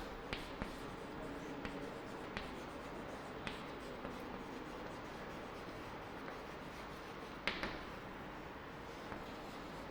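Writing on a board during a mathematics lesson on Roman numerals: a steady, faint scratching and rubbing runs throughout, punctuated by a few soft taps, with no talk over it.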